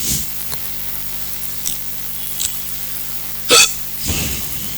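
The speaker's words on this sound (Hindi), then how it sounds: "हिचकी आ गई है, पता नहीं कहां से" A single person's hiccup, a sharp close-up gulp standing out once against quiet room tone, with a few fainter clicks and breaths around it.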